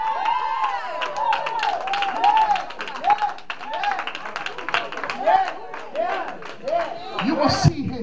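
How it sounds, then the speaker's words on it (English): A church congregation claps along during a morning sermon, rhythmic hand claps mixed with shouting voices and crowd noise, the preacher's voice rising and falling over the clapping throughout. "Clap your hands and give God a praise"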